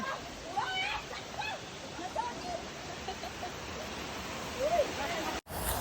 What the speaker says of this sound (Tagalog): Agos ng tubig yung maririnig mo